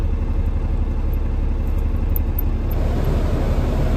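A 1982 John Deere 4440 tractor engine idles in a steady, even low rumble, close by and loud, with a faint fan hum above it.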